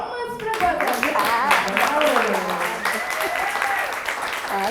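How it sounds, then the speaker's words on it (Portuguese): Seminar audience applauds a panelist at a women-in-leadership event, with clapping running throughout while someone talks over it in the foreground. "palmas para Guadalupe!"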